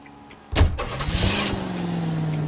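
A car engine turns over and catches in the LA Noire video game, a sharp starter burst followed by a steady close idle that settles and holds.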